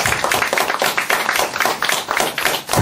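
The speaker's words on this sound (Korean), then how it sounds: "여러분 여기서 박수 한번 보내주시기 바랍니다" An audience at a Korean lecture hall gives a burst of lively applause, many hands clapping densely and loudly throughout with no voices over it.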